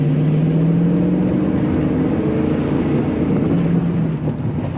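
A 1977 Mercedes-Benz 450 SL with its V8 accelerating hard gives a loud, steady engine drone from inside the car, a rising tone under heavy road and wind roar throughout.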